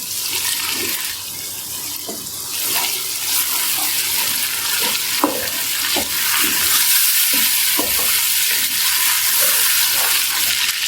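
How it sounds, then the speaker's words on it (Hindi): Tomato puree poured into a hot frying pan for mutton yakhni pulao and stirred, giving a steady loud sizzle with wet scraping and sloshing throughout, no talking. "चार अदद टमाटर की प्योरी बना ली थी, तो ये डाल देंगे।"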